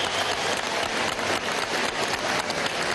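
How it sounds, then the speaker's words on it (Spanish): Audience applauds a young maraca player at a live broadcast event, dense steady clapping filling the whole moment at close range with no talk over it. "Dale, un aplauso al maraquero."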